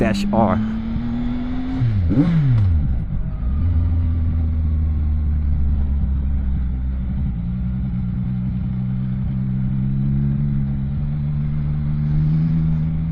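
A CFMOTO 675NK motorcycle engine drones steadily while riding through a few last right-hand corners, a low continuous rumble with pitch shifts as revs change, heavy wind noise throughout.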